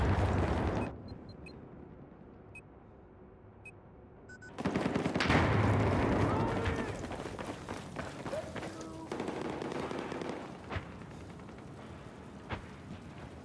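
Enemy machine gun fire in a video game: dense, sustained bursts of rapid gunfire across most of the stretch, loud and close after a quieter opening, with the rattle continuing in waves and sharp single cracks near the end.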